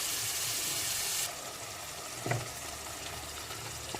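Potatoes sautéing in a pan for a Turkish chickpea stew, giving a steady close sizzle and hiss that drops a little partway through, with one brief stirring clatter and no talking.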